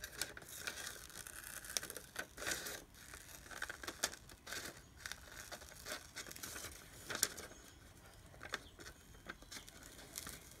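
Scissors snipping a paper photo piece for a key chain, with close, soft irregular cuts and light paper crinkles running steadily throughout.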